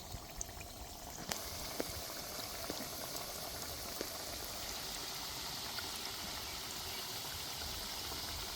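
Pieces of kothimbir vadi, Maharashtrian coriander-leaf fritters, frying in hot oil give a steady, even sizzling hiss dotted with faint small pops, heard close and alone.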